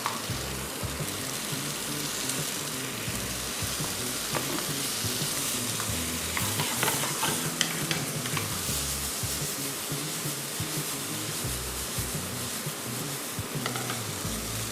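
Samosa filling of green peas and salt sizzles and fries in a pan over a full flame, a steady close crackle with occasional stirring scrapes and no talking.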